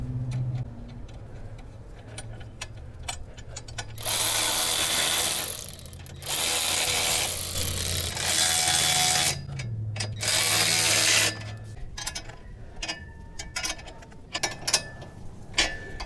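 A ratchet tightening clamp bolts on a 2001 Jeep Cherokee Sport, close and loud, in several long clicking runs separated by short pauses and scattered single ticks.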